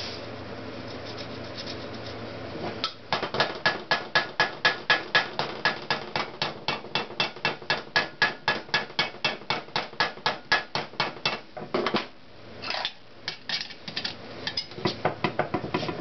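Hammer blows ring out on the steel frame of a Honda CX500 motorcycle under restoration, where a rusty section is being beaten back into shape. Quick, close, evenly spaced strikes run for about nine seconds, pause briefly, then come back in a few shorter bursts.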